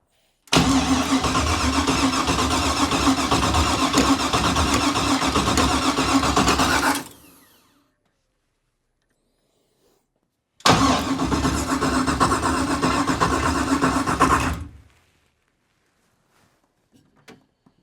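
A car engine cranks loudly and continuously for about six seconds after a new tune is uploaded, then stops; after a pause of several seconds, it cranks again for about four seconds without starting.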